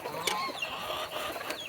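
Small bantam gamefowl hen clucking softly in a short burst of close, quiet, scratchy calls.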